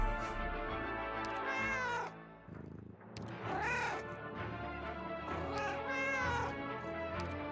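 A cat meows repeatedly in the Arknights video game, several drawn-out, wavering calls of moderate loudness over steady background game music, with no talk during the cries.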